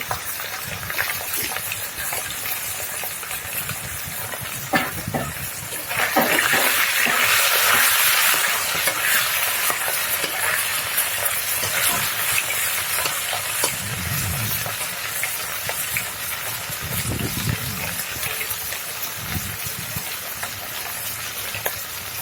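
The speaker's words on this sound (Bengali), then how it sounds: "এদিকে মাছ ভাজছি" Steady frying sizzle from a pan of fish in hot oil, swelling louder partway through, with a few low background thumps.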